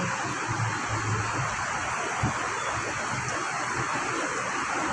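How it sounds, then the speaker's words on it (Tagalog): Heavy rain with large drops falls steadily, a dense, loud wash of broadband noise with no voices, constant from start to finish. "Ang lalaki ng patak ng ulan guys."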